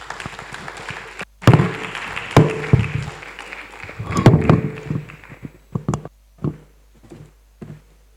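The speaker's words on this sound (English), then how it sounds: "A round of applause for our president." Audience applause at the NEMSA Conference 2024 after the president is introduced, a dense clattering burst of clapping that rises, swells and then breaks into a few scattered, fading claps.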